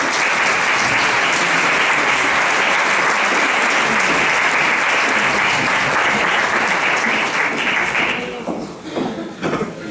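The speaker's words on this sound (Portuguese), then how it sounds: "Uma salva de palmas." A seated audience at a concert event in a hall breaks into loud, sustained applause, dense clapping for about eight seconds before it thins out and fades.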